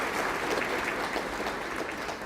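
Audience applause at a school evening of excellence event, a dense, even wash of clapping that holds steady and fairly loud for a couple of seconds.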